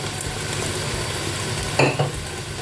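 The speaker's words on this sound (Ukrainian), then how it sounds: "і продовжуємо підсмажувати. І все періодично помішуємо" Oil sizzles steadily in a pan as food fries, with a couple of brief clinks and scrapes from stirring near the end, loud and close, with no voices.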